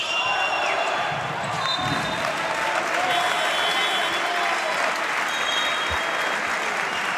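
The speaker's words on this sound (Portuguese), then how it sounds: "E muitos aplausos do público do Dragão Caixa a esta equipa do Porto" A crowd applauds in the Dragão Caixa arena at an FC Porto versus Juventus Utena basketball game, sustained dense clapping and cheering across the whole stretch, with a commentator's voice and occasional court thumps underneath.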